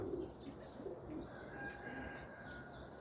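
Pigeons coo softly and repeatedly, low throaty calls close by over a steady background murmur.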